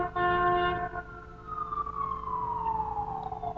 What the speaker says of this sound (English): if you hear sirens, it's because there's always sirens